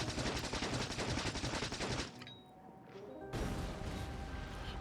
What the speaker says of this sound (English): I'm using up my own weapon bullets